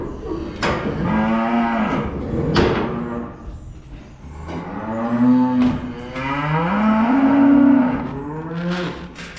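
Calves on a beef farm mooing repeatedly, loud and close, long drawn-out bellowing calls one after another with shed clatter in the background.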